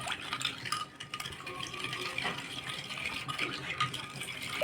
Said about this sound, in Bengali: তো এটা নেড়ে নেব।